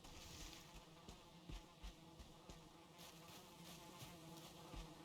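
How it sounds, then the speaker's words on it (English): Bees buzz in the video game Valheim, a faint, steady insect drone with soft thumps and clicks of game action scattered through it. "I hear bees."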